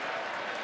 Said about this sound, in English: Oh, listen to this crowd as they drop Glasgow Martin